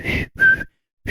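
A few short, breathy whistled notes, with a brief pause before a final one.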